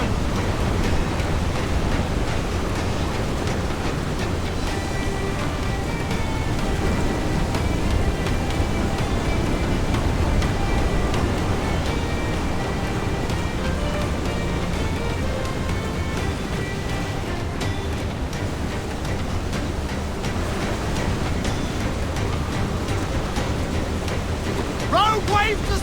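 Open-sea waves from Assassin's Creed IV Black Flag wash and roar in a dense, unbroken rush, mixed with wind and storm noise. Faint voices may sit under the swell.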